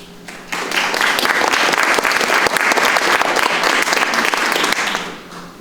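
An audience at an opening keynote claps loudly in a dense, sustained burst of applause that swells quickly, holds for several seconds, then tapers off.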